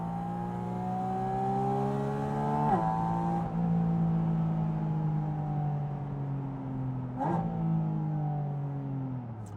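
A Porsche 718 Spyder RS flat-six revs at very high RPM in an open-top car, its tone climbing steadily and then dropping sharply on each of two quick PDK upshifts. It is loud, close and sustained, with no talking.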